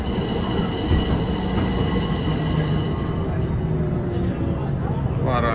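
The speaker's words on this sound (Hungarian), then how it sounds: "És akkor így végállomásozik a 2-es villamos" A Budapest line 2 tram standing at its terminus during high Danube floodwater, steady rolling rumble and wheel noise throughout with a rising squeal near the end, continuous and fairly close.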